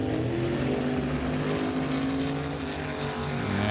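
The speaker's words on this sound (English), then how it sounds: "Greg spools up the turbos" A drag racing car at Mission Raceway in an NHRA divisional event spools up its turbos, a loud sustained engine roar with rising harmonic whine that fills the scene without a break.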